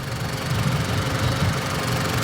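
A car engine idles steadily at close range, a low continuous rumble with a faint rhythmic ticking running through it and no voices.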